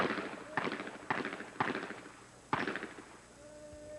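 Four pistol shots fired at a moving target in a 1984 Bianchi Cup match, at uneven half-second to one-second gaps. The sharp reports sound moderately distant, over steady outdoor background noise.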